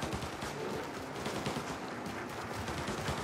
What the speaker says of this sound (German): Außen wird auch fleißig geschossen.